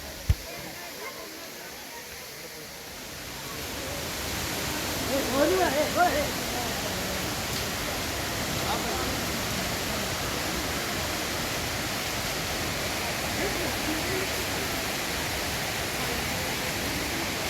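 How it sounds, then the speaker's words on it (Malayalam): Rushing water at Thusharagiri waterfall roars as a dense, unbroken hiss. It is quieter for the first few seconds, then swells to a fuller, steady wash that continues evenly to the end. "നമ്മുടെ വെള്ളച്ചാട്ടത്തിൻ്റെ ആ ശബ്ദവും ആ വെള്ളച്ചാട്ടത്തിൻ്റെ കാഴ്ചയും ആസ്വദിച്ചുകൊണ്ട്"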